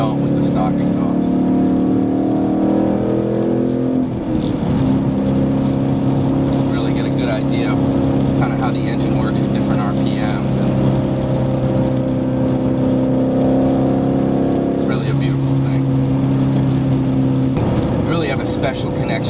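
Loud Borla aftermarket exhaust on a 2011–2014 Mustang GT sports car rumbling and revving inside a tunnel, a steady deep drone with shifting pitch that swells and settles, voices talking over it.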